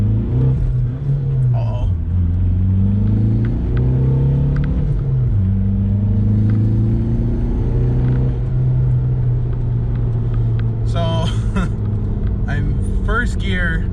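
A VW MK4 Jetta TDI diesel fitted with a K&N air filter pulls hard in first gear. The engine drones loud and close, rising and falling in pitch as it revs, and a voice speaks briefly over it.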